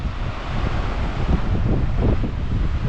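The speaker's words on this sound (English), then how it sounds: "because it's so windy up here" Strong wind buffets the microphone in a continuous roaring rush, swelling in gusts with no voices heard.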